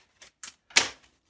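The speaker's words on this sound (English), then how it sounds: "need some scissors to open it up" Scissors snip open a packet of baking ingredient in a home kitchen, three short, close, crisp cuts in quick succession, the last the loudest and longest.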